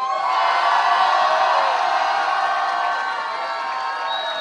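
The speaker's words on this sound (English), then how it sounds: "And the crowd goes wild." A crowd at an Army combatives competition cheers and whoops after a bout ends, a dense roar that stays loud and steady, easing slightly toward the end.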